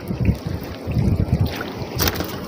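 Gusty wind buffets the microphone aboard a small fishing boat out on open water, a rough low rumble rising and falling in uneven pulses with no one talking.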